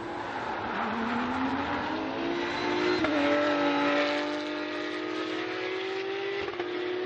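Porsche race cars on a formation lap at the Tor Poznan circuit in a Porsche Sprint Challenge race. Engines drone and rise steadily in pitch as the pack passes, loud and continuous, with occasional tyre noise and no voices.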